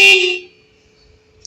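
Single loud honk from the horn of a Bajaj Kristal scooter converted to electric drive, a steady tone lasting under half a second before cutting off, heard alone up close.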